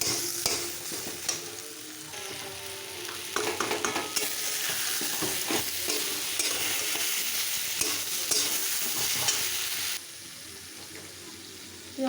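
Ginger, cumin, turmeric and chilli powder sauté in a pan for a soybean and potato curry, with a loud, continuous sizzle and stirring scrapes that drop away abruptly near the end.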